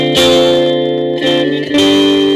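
Distorted electric guitar chords through a Yamaha THR practice amp ring out loud and sustained, struck three times with a slight echoing effect.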